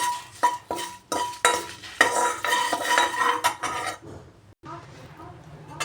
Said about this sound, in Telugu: బాగా ఫ్రై చేసుకుందాము మాడకుండా లో ఫ్లేమ్లో ఒక రెండు మూడు నిమిషాలు ఫ్రై చేసుకుందామండి